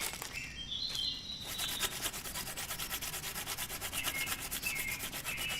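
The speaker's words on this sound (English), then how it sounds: "Sandpaper's still working" Drawing pencil sharpened on sandpaper: steady rhythmic rubbing and scraping strokes, close and continuous, with faint high chirps in the background.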